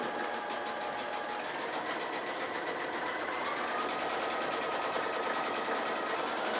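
A sewing machine with a couching foot runs fast and steady during free-motion quilting, its rapid needle rattle forming an even, unbroken drone at close range.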